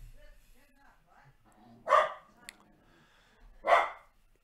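A puppy barks twice, sharp and fairly close, about two seconds apart, with a small yip in between, while indoor background sounds continue quietly.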